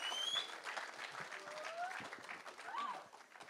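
An audience at a technology conference applauds steadily, a faint, dense wash of clapping running for several seconds that fades a little toward the end.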